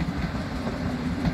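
A long S2 S-Bahn commuter train rumbles steadily past close by, a continuous roar of wheels and carriages with no break across the short stretch.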